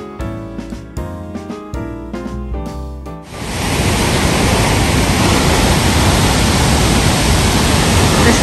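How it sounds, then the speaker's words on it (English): Huilo Huilo waterfall in Chile's Lake District roars as a steady, loud, dense rush of falling water, following a few seconds of music at the start. "Waterfalls called Huilo Huilo"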